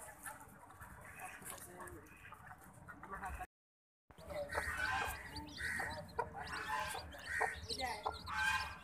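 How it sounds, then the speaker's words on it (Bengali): Week-old chicks put out in winter sunshine beside a village pond chirp in quick high bursts mixed with hen clucks, with a short silent gap partway through and people talking nearby. "আমাদের মুরগির বাচ্চা"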